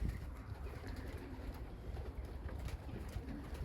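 Young racing pigeons flying out around a loft, with soft cooing and fluttering from several birds close by over a steady outdoor background, no talking.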